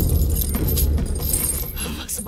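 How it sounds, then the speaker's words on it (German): Keys jangling close by as they are handed over, a light metallic clinking over a continuous low background rumble, with a voice briefly heard. "Nimm den Schlüssel und befreie mich nicht vor morgen früh."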